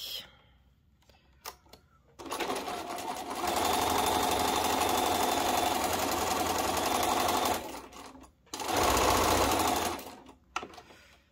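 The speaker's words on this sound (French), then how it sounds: "Maintenant que j'ai fini mes piqûres, je vais découper la couche du dessous uniquement." A sewing machine stitches quilting lines on a quilt block in two long bursts of rapid, buzzing rattle, stopping briefly between them, with a few clicks and handling noises before and after.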